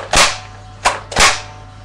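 A spring-powered AK47 airsoft rifle fires three loud, sharp snaps, the first two spaced apart and the last two closer together, with nothing else heard in between.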